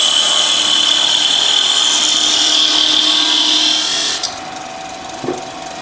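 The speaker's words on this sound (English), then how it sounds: "Just use a 10mm parting tool." A 10mm parting tool cuts into wood spinning on a lathe, giving a steady, loud high-pitched shearing whine that holds for about four seconds, then stops abruptly, leaving the motor's low hum and a small knock.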